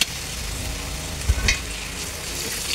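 Onion and meat sizzle steadily while sautéing in a pan, a continuous hiss with a few soft clinks and scrapes of stirring partway through.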